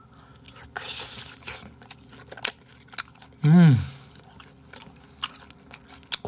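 Chewing air-fryer cooked meat close to the mic, wet crunchy bites and mastication scattered across the clip with a brief voiced hum in the middle.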